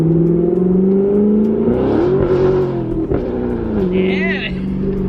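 A C7 Corvette engine revs up and falls back as its wheels lose traction. The loud, close engine note climbs in pitch and wavers while people talk over it.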